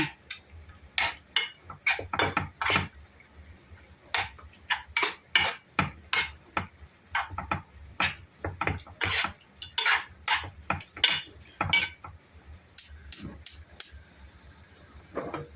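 Chicken pieces with black pepper and cooking oil stirred in a pan, heard as a steady, rhythmic run of close scraping and clinking utensil strokes against the pan, with brief pauses between bursts.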